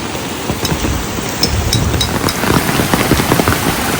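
Steady rain falls close by at a tent campsite, a dense hiss with scattered drops pattering on a surface, continuous throughout with no voices.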